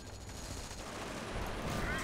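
Tank machine guns in a Company of Heroes battle fire continuous, dense bursts that blur into a steady roar of gunfire with distant battle noise, at moderate loudness throughout.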